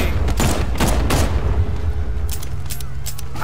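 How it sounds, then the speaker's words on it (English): Continuous heavy gunfire in the video game Batman Arkham Knight, a loud, sustained rattle of shots and booms that runs the full length. "No way, I'm actually shooting."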